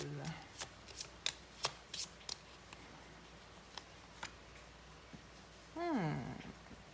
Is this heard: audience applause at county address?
no